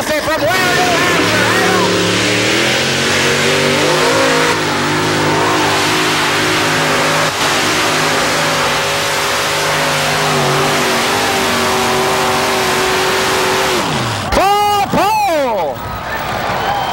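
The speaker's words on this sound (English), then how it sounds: "Phil runs out of track in his very first pull behind the wheel of the 5-engine Sassy Massey" Five-engine Sassy Massey pulling tractor at a tractor pull, a loud sustained multi-engine roar holding steady for most of the run, then rising and dropping in sharp revs near the end, close and dominant throughout.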